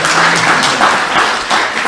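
Loud, dense audience applause at a French morning conference session, a steady wash of clapping that dips slightly near the end.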